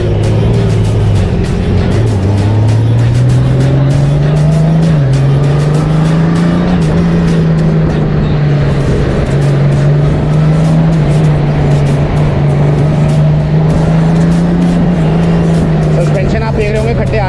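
Matt black 2022 Honda Goldwing BS6 motorcycle cruising and rolling over a speed breaker, a steady low engine drone with a slight dip and rise in pitch, heavy wind rush, and someone talking throughout.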